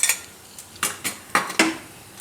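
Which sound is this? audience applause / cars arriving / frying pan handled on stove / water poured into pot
frying pan handled on stove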